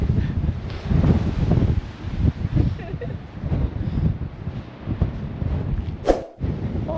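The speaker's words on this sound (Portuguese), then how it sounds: "ali o vento tá tão forte que eu quase que voo ali" Strong wind buffets the microphone on the exposed coast at Galapinhos beach in Portugal, a steady loud rushing roar with gusts throughout, while a person talks over it.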